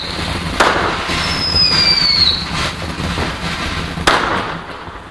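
Bonfire Night fireworks sound as two sharp bangs a few seconds apart, with a thin whistling streak rising between them over a steady outdoor background.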